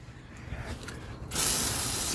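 After a low rumble, a loud hissing spray of water onto a car engine starts abruptly and continues steadily, close by.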